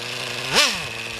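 A small high-pitched Traxxas Revo 3.3 RC nitro car engine idling steadily with a buzzing rattle, briefly revving up once and settling back down.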